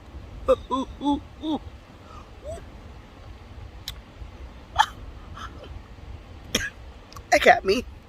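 A person coughs several times in short, scattered bursts, some rough and throaty, others sharp and hiccup-like, with small vocal noises between them, close and fairly loud against a quiet room.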